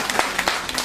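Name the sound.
audience applause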